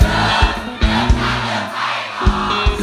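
A large concert crowd sings along loudly in unison over pounding music at a live show, voices blending into one big sustained chorus.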